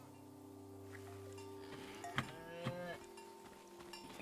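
A cow moos in the video game Season: A Letter To The Future, one long bellow rising and falling near the middle. It stands out over a soft rural ambience with light clanking, and nobody speaks.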